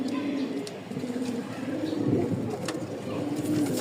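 Rajshahi pigeons in a loft coo steadily and softly, a continuous low, rolling murmur from several birds close by, with faint background voices.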